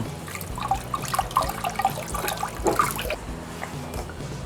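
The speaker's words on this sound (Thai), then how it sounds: "มะกรูดครับ เดี๋ยวล้างน้ำนิดนึง" A makrut lime is rinsed under running water in a kitchen while cooking a Thai curry, with a close, splashing tap stream and irregular spatters as the fruit is turned under the flow.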